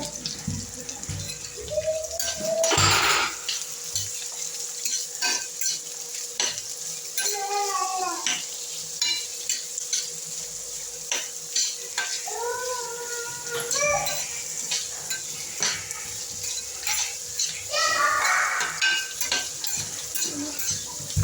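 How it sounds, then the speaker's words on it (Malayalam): Onions sauté in a large pan on an electric stove for chicken curry, a steady sizzle under repeated scraping and clinking stirs of a spoon, with some sharper knocks and faint water sounds throughout. "ഉള്ളി ഒന്ന് നല്ലോണം ഒന്ന് വഴറ്റിയെടുക്കുക"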